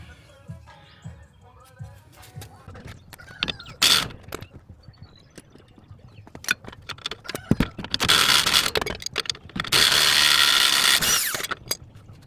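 Wrench and ratchet work freeing a nut and bolt from a BC Racing coilover on an Infiniti G37 coupe, with scattered metallic clicks and clanks, then two long loud bursts of rattling tool noise close by.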